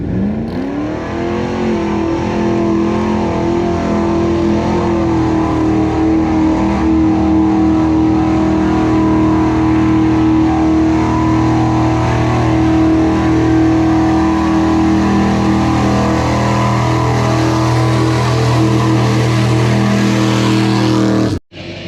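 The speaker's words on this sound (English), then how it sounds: "it's a 1978 Ford Bronco with a 460 in it" A 1978 Ford Bronco with a 460 engine at a mud bog, roaring loud and close in a sustained high-revving drone that shifts pitch slightly before cutting off abruptly at the end.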